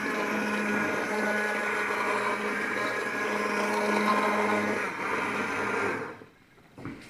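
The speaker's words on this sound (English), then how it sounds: "Stick immersion blender. Awesome. Make sure you keep it in there so it doesn't splatter all over you. Blend it." Stick immersion blender whirring steadily through San Marzano marinara for about six seconds, a loud continuous motor drone that cuts off near the end, leaving faint room noise.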